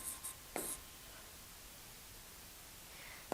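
Writing on a board during a physics class, with a few brief scratchy strokes and taps at the start and end over faint steady room hiss.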